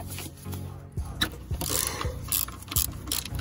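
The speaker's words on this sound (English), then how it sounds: "now get your 12 mil. And loosen the two top ones." A ratchet with a 12 mm socket and extender loosens throttle body bolts on a 2009 Honda Ridgeline, quick clicking pawl strokes and metallic knocks in irregular bursts, close up with no speech.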